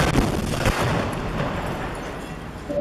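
A rocket fired at an Israeli military vehicle in combat, heard as a loud dense blast with a rumbling, crackling tail that slowly fades, no speech.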